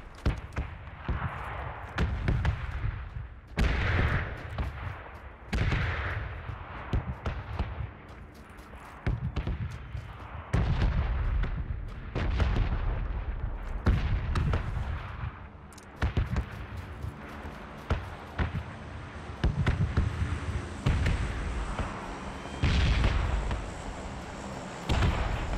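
Gunfire in the shooter game PUBG, heard as repeated sharp bursts of shots at a moderate distance, spaced irregularly across the scene and growing denser toward the end.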